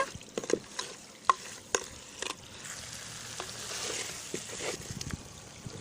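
Bottle gourd stirred and scraped in a sizzling pan, with soft frying hiss and several sharp utensil knocks against the pan.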